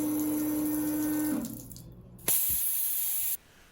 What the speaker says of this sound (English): The second video is the system cleaning sawdust off the lenses with pressurized fluid.